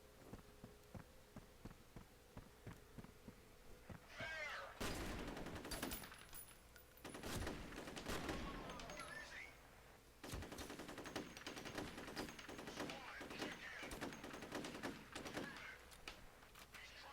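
Rapid automatic gunfire in the 2005 PC shooter F.E.A.R., with quiet clicking at first and then loud, sustained bursts that come and go across the firefight.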